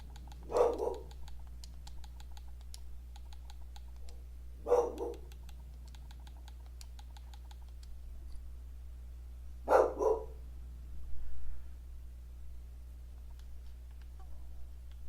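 A dog indoors barks at people walking a dog outside, giving three separate short, sharp barks spaced several seconds apart over a quiet room hum with faint keyboard clicks.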